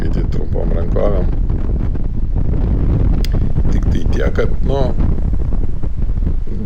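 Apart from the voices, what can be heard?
wind blowing on dunes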